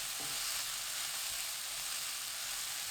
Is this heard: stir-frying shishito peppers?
yes